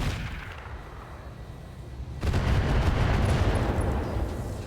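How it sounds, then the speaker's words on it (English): Long Tom artillery firing in RogueTech: a low rumbling bed builds into a sudden heavy, sustained boom and roar that stays loud for the rest of the moment. "We're going to fire the Long Tom out at the Orion."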